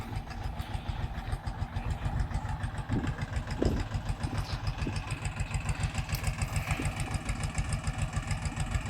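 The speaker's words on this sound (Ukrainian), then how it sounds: "Трактор працює суперово, двигун м 385 А" A Chinese tractor with an M385A diesel engine chugs steadily nearby with a low, rhythmic thump, running continuously at a constant idle-like pace without any talking.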